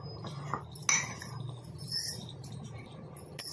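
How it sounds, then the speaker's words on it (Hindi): Sweet corn being stirred together with onion and spices in a bowl, giving soft scraping and a few light clinks of a spoon against the dish, quiet and close, with no voices. "और ये प्याज, अब इन सबको अच्छे से मिक्स करूंगी।"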